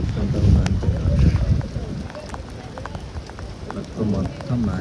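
Heavy rain drums on a truck container during a camping trip, with a steady patter and gusty low rumbles that swell and fade, and a person talking faintly.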